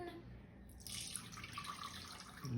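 Milk poured into a cup for gourmet hot chocolate, a soft continuous splashing liquid stream that starts about a second in and runs steadily, quiet and close.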